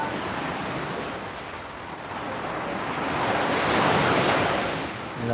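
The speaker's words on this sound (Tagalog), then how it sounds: "Lakas ng alon ngayon ah." Strong ocean surf breaks continuously along the shore, a loud steady wash of waves that swells and recedes, with wind buffeting the microphone and no voices.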